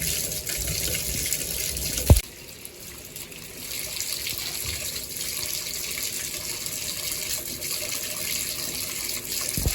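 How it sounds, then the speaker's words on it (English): A tap runs to fill a bath in a home on a snowy day, producing a steady close hiss of pouring water after a brief knock near the start. "now we're going to have a bath"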